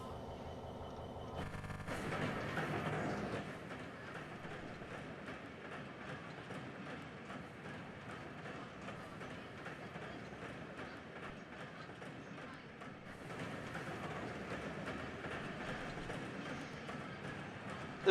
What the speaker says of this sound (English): They're just the sound set that come with the wagon.